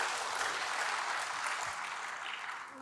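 A congregation at a church sermon breaks into sustained applause, a dense, continuous wash of many hands clapping together that stays fairly even throughout.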